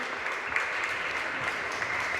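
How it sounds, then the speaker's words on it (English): A crowd at an inter-school history quiz competition in Goa breaks into steady, full applause, the dense clapping sustained evenly and unbroken throughout. "let's give him a big round of applause"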